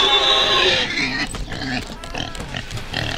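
A pig grunts in a Roblox video game. Heavy, rough snorts sit close and loud under an excited voice that talks over much of the clip.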